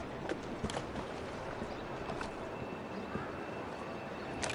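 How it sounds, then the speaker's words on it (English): Horse hooves clip-clop at a walk in the video game Assassin's Creed Syndicate, a few faint, irregular knocks over a quiet bed of ambient game noise. "Who's a good horse?"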